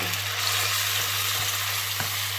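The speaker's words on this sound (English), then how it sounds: "just let it fry. It might spit a little bit initially" Green Thai curry paste frying in hot oil in a wok gives a steady, even sizzle throughout, with a few faint crackles and light stirring scrapes underneath and no voices.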